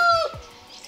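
A chicken gives a brief, close cluck with a sharp tonal call that drops away, then quiet farmyard background.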